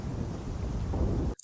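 A deep, loud rumble of thunder rolls through a cartoon storm scene for just over a second before cutting off abruptly.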